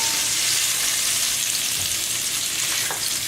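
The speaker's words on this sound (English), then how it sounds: "that's the last portion of our meat for browning" The final portion of beef for beef bourguignon browns in a pot, giving a steady close sizzle and frying hiss that holds evenly throughout, with a faint stir near the end.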